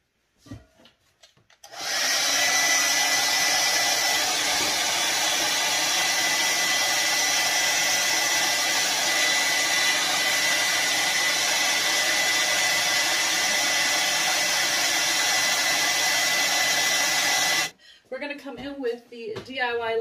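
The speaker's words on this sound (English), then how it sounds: "So I'm going to put some heat to this." A heat gun warms decoupage paper with one steady, loud, broadband blowing roar that lasts about sixteen seconds and cuts off sharply, followed by a brief voice.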